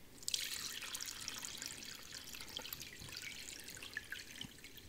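Homemade rice and cinnamon horchata strains through a sieve lined with cheesecloth, a faint, steady trickle and patter of liquid with a few soft drips, alone and quiet.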